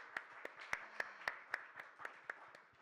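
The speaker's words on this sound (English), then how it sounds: "So huge round of applause to each one of you in the room." Applause from an audience in the room at a campaign launch event by Reliance Nippon Life Insurance: a quiet, sparse patter of individual claps in an uneven rhythm, fairly distant.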